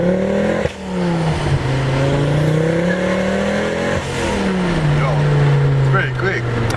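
Ford Focus ST with a Volvo-sourced 2.5-liter five-cylinder engine accelerating hard from inside the car, a loud, steady drone that rises in pitch through the gears with brief dips at shifts.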